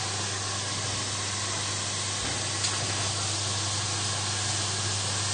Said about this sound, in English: it's starting to sizzle already